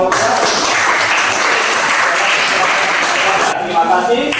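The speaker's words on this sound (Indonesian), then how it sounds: "Mari kita memberikan aplaus kepada kelompok." Steady, dense clapping from a classroom of students applauding a student group, filling the space at an even level for several seconds before thinning slightly near the end.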